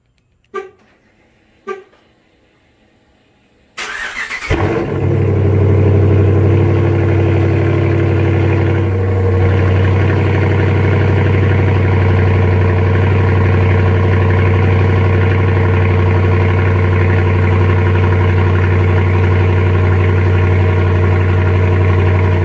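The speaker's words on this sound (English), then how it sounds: "So how about a cold start?" A Dodge Challenger R/T with the 5.7 Hemi V8 and a mid-muffler delete cold-starts loudly after two short clicks, then settles into a steady, deep, rumbling idle that stays close and loud throughout.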